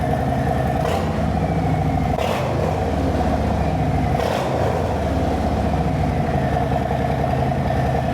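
A Harley motorcycle engine runs with a rough, loud idle and a few short revs swelling over it, close by with no talking.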